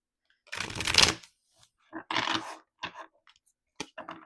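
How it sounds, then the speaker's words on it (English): Tarot cards are riffled and shuffled close up in short crackly bursts, a longer flutter first, then several quicker snaps and taps, with no talking. "These cards are kind of hard to shuffle for me."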